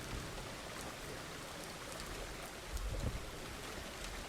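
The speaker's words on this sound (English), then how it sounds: "raining on a holiday for the 4th of July" Steady rain falls in the Farmer's Dynasty farming video game, a faint, even hiss throughout with a slightly louder swell near the end and no voices.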